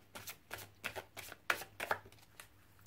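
Oracle cards are shuffled by hand in quick, rhythmic riffling bursts, about eight crisp flutters close up and fairly quiet, with no voice over them.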